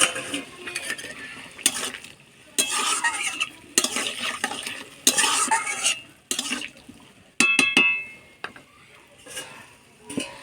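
Boiled potatoes and pointed gourd stirred in a pan over heat, with repeated scraping bursts and clinking of a spatula against metal under a faint sizzle, no talking.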